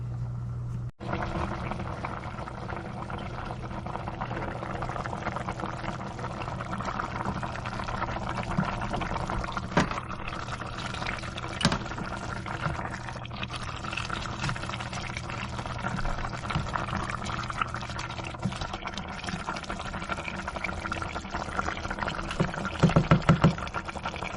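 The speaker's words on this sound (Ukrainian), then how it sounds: "отак залишаємо, воно буде собі кипіти" Meat simmering in a pot of water on the stove, a steady low bubbling and hiss running continuously for the whole stretch, with a few light knocks near the end and no talk.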